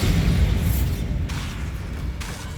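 The Bombarda spell exploding in Hogwarts Legacy: a loud, dense burst of low rumbling and crackling noise that holds steady, then gradually fades as debris-like hiss trails off, with no talking.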